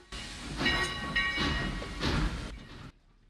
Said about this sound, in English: Train's going.